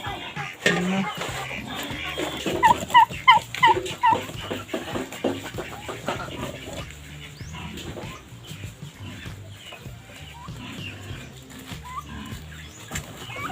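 A burst of rapid, angry turkey gobbling rises early on, loud and close, then fades into scattered farm sounds and low background noise.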